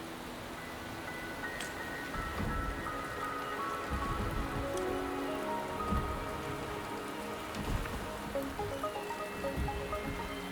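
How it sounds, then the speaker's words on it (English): Steady rain falling and pattering on surfaces in the video game Wuthering Waves, a soft even hiss with scattered drops, quiet and continuous. "The rain is subsiding, and the sky will soon clear."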